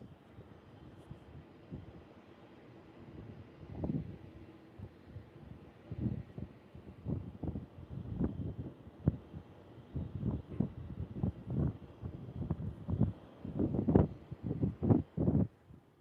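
Wind buffeting a microphone held out an open window in San Francisco at night, a low rumbling roar with irregular gusty thumps that grow stronger and more frequent, with no talking.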